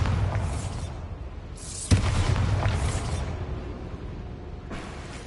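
A Bombarda explosion spell goes off with a sudden, deep boom and a sharp pop, set against a whooshing, rumbling magical backdrop and followed by softer swells of noise as the blast fades.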